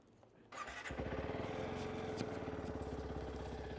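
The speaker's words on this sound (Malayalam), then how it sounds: "ആൻഡ് ഇതിൻ്റെ എക്സോസ്റ്റ് തൊട്ട് നിങ്ങൾക്ക് കേൾപ്പിച്ചു തരാം" A TVS Apache RTX 300 adventure motorcycle starts up. After a brief crank, its engine catches and settles into a steady, loud, throbbing exhaust idle close by, with a slight blip partway through and no talk.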